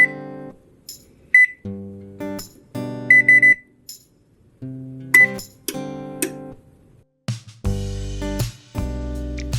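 Oven control panel sounds a series of short electronic beeps as it is set to preheat to 450 degrees, with crisp tones spaced irregularly and a longer chime near the end, loud and close with no talking.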